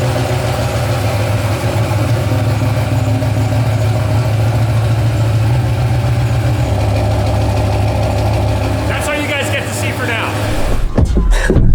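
Vehicle engine cranking to life and settling into a loud, steady idle with a rough low rumble, ending in a few clunks and rattles nearby.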